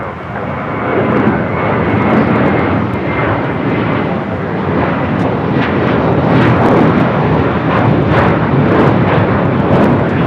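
Airliner at LAX airport, a loud, steady engine roar with a broad rushing quality that holds for the whole stretch, close and unbroken.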